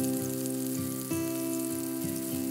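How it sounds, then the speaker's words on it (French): Vegetables in crème fraîche sizzle steadily in a hot pan being stirred, a continuous close fry hiss with a strong, steady hum running underneath; no voices. "nous allons remuer pour que nos légumes s'imprègnent bien de la crème fraîche"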